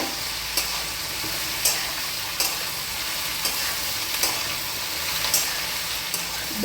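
Okra hitting a hot tempering of mustard seeds, fenugreek seeds and asafoetida in oil, a steady bright sizzle with faint scraping stirs at intervals and no talking.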